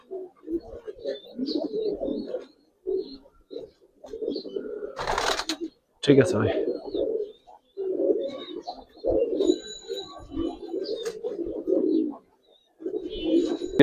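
Giribaz and coloured pigeons coo in soft, repeated low bursts close by, with someone speaking briefly between the calls.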